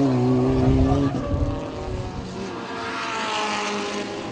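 Race cars at round 1 of the 2012 national racing championship in Coimbatore roar past on a circuit, a loud engine drone with a passing pitch sweep early on, then a steadier, more distant hum of cars lapping.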